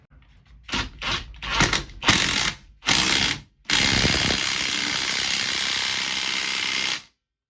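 A ratchet wrench with a 19mm socket tightens a bolt on the driveshaft of a 2004-09 Cadillac SRX, first in several short, loud bursts of clicking and then in one long, continuous ratcheting run up close.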